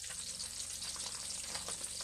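Steady crackling sizzle of milkfish frying in hot oil, three fish in the pan, continuous and fairly close, with no voices.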